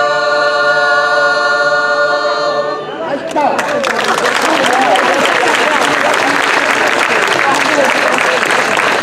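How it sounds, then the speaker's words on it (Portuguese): Sung music ends after about three seconds and loud, dense audience applause takes over, steady and close, with scattered cheering, following a folk singing performance by the cantadeiras of Vale do Neiva, Viana do Castelo. "Muito obrigado pelos vossos aplausos"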